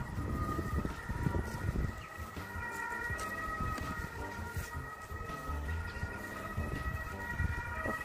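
An emergency vehicle siren sounds on an evening street, its steady high tones holding loud and continuous for about eight seconds above a rumbling, busy background with no speech.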